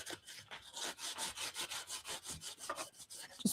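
Rhythmic back-and-forth scrubbing of 80-grit sandpaper pulling paint off a wooden edge, about a dozen quiet, even strokes heard up close with no talking.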